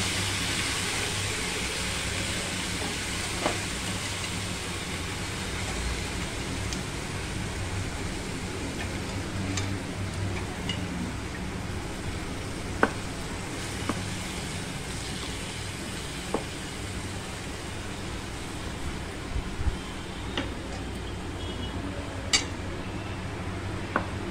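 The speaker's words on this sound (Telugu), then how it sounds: "వంకాయలు వేసుకుంటున్నా. ఈ నాగపూర్ వంకాయలు." Nagpur brinjals fry in a pan with a steady broadband sizzle, close and continuous, broken by occasional light clinks and stirring taps of a utensil against the pan, with no talking.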